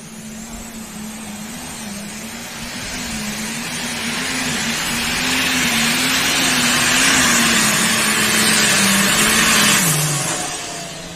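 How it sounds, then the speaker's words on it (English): A multi-charger pulling tractor builds boost at a truck and tractor pull in Napoleon, Ohio, its engine holding a loud, sustained roar that rises in intensity, then drops in pitch near the end. "We're going to listen to him make the boost on this multi-charger machine."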